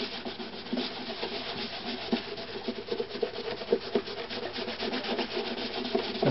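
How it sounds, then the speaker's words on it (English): A cloth rag rubs Flitz polish over a violin's varnished surface in steady, close, scratchy back-and-forth strokes that continue without a break and without voices. "It's starting to sound a little dry. Then you take a clean area of your rag, wipe the surface."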